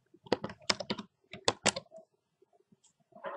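Quick bursts of keystrokes on a computer keyboard as a first name is typed into a Webex account sign-up form, a fast clattering run followed by sparser taps and a few final clicks.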